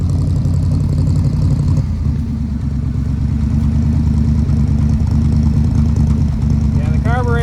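An old carburetted car engine idles roughly without choke just after being revived, a loud steady low rumble that runs throughout with people talking over it.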